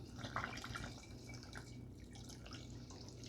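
Chilled filtered water pours into a homebrew beer fermenter holding porter wort, a faint, close splashing and dripping that continues steadily without any talk.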